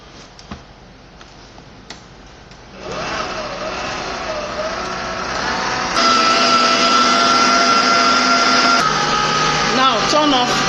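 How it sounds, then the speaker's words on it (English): An electric mixer churns doughnut dough, its steady motor whine stepping up in pitch and loudness twice as the speed rises, close and continuous. "Now turn off the mixer."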